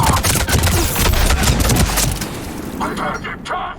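Dense, continuous gunfire in Mass Effect 3 Legendary Edition combat, rapid overlapping shots and cracks that stay loud and steady before thinning out near the end, with voices mixed into the chaotic battle.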